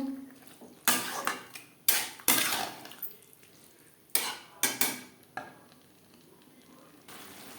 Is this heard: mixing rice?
yes